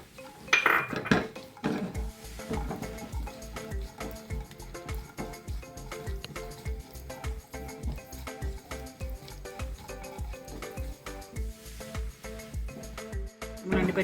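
Cashews and raisins fry in ghee in a pan, heard mostly as a steady run of close metallic clinks and scrapes of a spoon stirring against the pan, with a light sizzle beneath.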